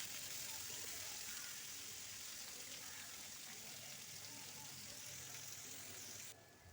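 Potatoes and broccoli fry in a pan of oil, giving a faint steady sizzle that runs the whole time and drops away abruptly near the end.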